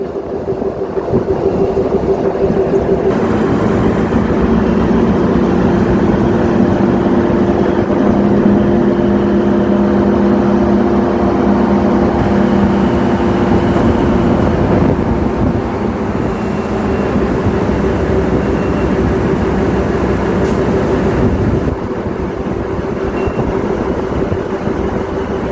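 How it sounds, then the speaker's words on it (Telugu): A DEMU diesel electric multiple unit train runs on the Secunderabad–Siddipet line, heard from on board as a continuous loud engine drone and rumbling track noise with a steady hum throughout, no voices. "ట్రాక్ సౌండ్ కూడా ఎంత బ్యూటిఫుల్ వస్తుందో వినండి"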